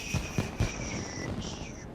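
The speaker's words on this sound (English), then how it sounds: "Fireworks time!" Fireworks burst in the video game The Secret World: three quick low thumps in close succession, with thin whistling tones trailing overhead that fade and then return.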